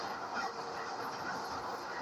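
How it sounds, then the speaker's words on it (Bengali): A freight train passing close by, heard as a faint, steady rolling rumble and rattle of rail cars that continues evenly for the whole short stretch, with no voices. "ও মামু, এটা মনে হয় মালগাড়ি আসছে"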